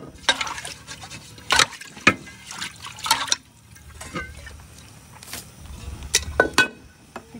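Water is poured into a pressure cooker for dal with eggs, coming in short splashing bursts and trickles separated by pauses, fairly close and moderately loud.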